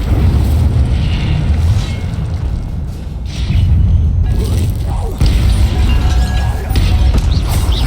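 Incendio fire spell cast in the Hogwarts Legacy video game: a loud, continuous roaring rumble with booming surges that stays dense and heavy throughout.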